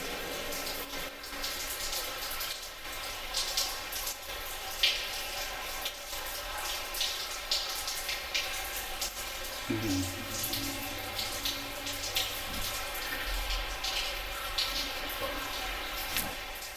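Water running steadily through a tunnel in Mira Mesa, a continuous hollow echoing wash that fills the whole stretch, with a low tonal hum entering partway through.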